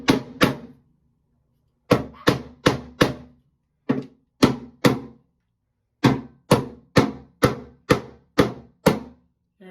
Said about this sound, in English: So I'm hitting it with a hammer.